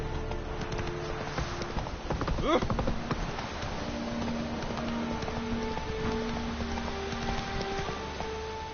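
The horse Roach gallops in The Witcher 3, rhythmic clip-clop hoofbeats at a steady pace under game music and ambient noise, with a voice speaking briefly.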